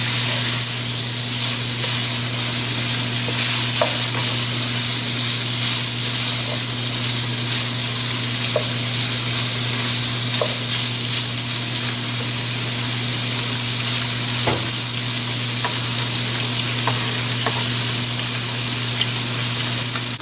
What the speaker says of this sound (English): Sausages have started to turn golden brown.